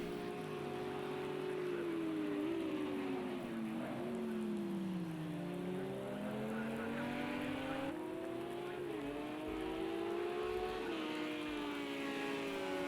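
Race cars in the Project CARS 2 video game at a wet Texas road course give a steady engine drone with shifting pitches, over constant hiss of rain and spray throughout, with no clear talk.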